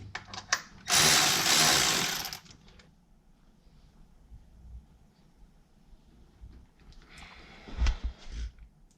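A nut is tightened on the mounting bolt of a Sanden compressor on a Ford 5.0 Fox body engine in a 1967 Mustang. A loud whirring tool burst lasts about a second and a half, then quiet, then a few softer metallic clunks.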